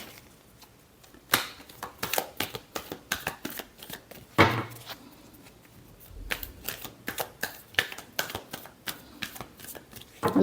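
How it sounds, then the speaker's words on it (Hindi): A deck of tarot cards is shuffled by hand in a quick series of crisp riffles and flicks that come in uneven bursts, close and fairly quiet, with no speech. "Last shuffle."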